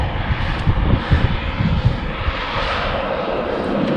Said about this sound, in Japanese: これ2800年前になんかこの形になってずーっとガス吹き続けるのか。